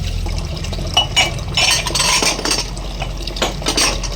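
Dishes and cutlery handled for washing, with close clinks and clatters of metal and crockery over running water and a low rumble, busy and fairly loud with no talking.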